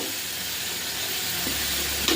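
Chicken sautéing with fried spices, salt, turmeric and garam masala, a steady close hissing sizzle with a few soft stirring scrapes and a low hum underneath, no talking.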